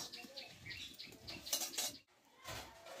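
Milk being stirred in a pot for dudh puli, a spoon scraping and clinking against the metal in short quiet strokes, with a brief pause before one more scrape.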